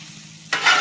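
Hibachi fried rice being stirred on a hot griddle: a brief, quiet lull, then a sudden burst of bright sizzling and scraping that swells loudly for a moment.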